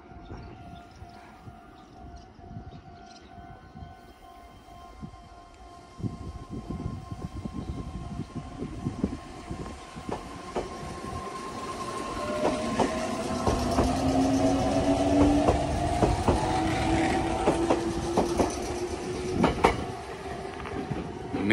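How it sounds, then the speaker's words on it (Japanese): A four-car Meitetsu limited express train rolls past nearby on the Chita New Line, its wheels clattering and rumbling louder as it approaches, with a high squeal of brakes or rails toward the end. "今これやってきたのは高和線から来た特急列車、特急名古屋駅ですね。"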